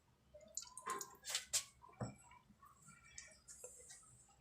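Lemon juice poured into a chicken wing marinade of yogurt and ground chilies, giving a few quiet splashes and drips spread over a few seconds, close but faint, with no talk.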